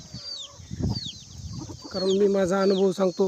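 A hen with ten- to twelve-day-old chicks clucks in a low, close, rhythmic stream over high chick peeps, after someone talks at the start.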